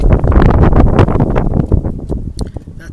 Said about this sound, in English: that's a spicy wind right there